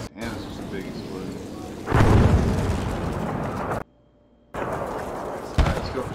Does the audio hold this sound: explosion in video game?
yes